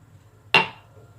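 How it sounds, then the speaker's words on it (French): A single sharp crack as an egg is broken against a blender jar, one of three eggs going in for a lemon and poppy seed cake, close and brief over a faint low hum. "dans un blender, vous allez casser 3 œufs"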